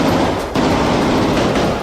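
Rapid gunfire from Israeli soldiers storming a Hamas tunnel in Gaza, a dense continuous barrage of loud, close cracks filling nearly two seconds with only a brief dip midway.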